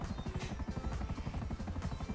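A helicopter flies steadily in GTA 5, its rotor chopping in a dense, continuous low pulse that fills the whole stretch at close range.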